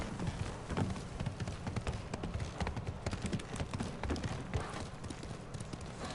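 Hooves of the black horse Kage in Ghost of Tsushima pound in a fast, steady clip-clop gallop, close and continuous for the whole stretch with no talk over it.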